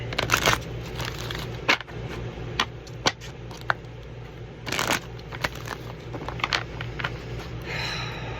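A deck of oracle cards being shuffled close up, repeated riffling and sliding with soft snaps, steady and fairly quiet with a low hum underneath.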